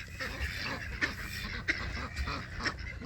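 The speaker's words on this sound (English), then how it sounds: "This is the pond, right? There's ducks and geese" Ducks and geese at a farm pond, with quick quacks and honks repeating close by over a low murmur of other birds.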